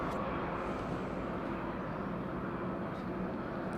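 A British Airways A321 airliner in from Gatwick at Madeira airport, its broad steady engine roar filling the clip at an even, fairly distant level without clear rises or breaks.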